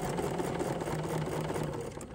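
A sewing machine stitches in continuous reverse on flowing fabric, giving a steady close whirring hum with a fast even stitching rhythm throughout, alone and without voices.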